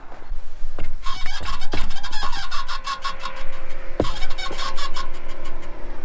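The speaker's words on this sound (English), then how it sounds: "It can't possibly be any more funny noises from the suspension." A car's suspension squeaks over and over in clucking, chicken-like chirps over a rumbling engine and road noise while driving, loud and close.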